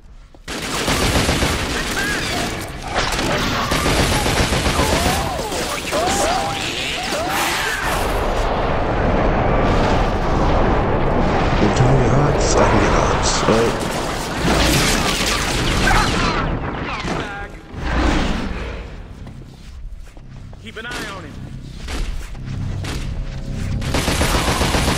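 Gunfire in the video game The Darkness, a loud dense barrage of shots and booms that runs almost without a break, with heavy rumbling blasts layered under the rapid firing.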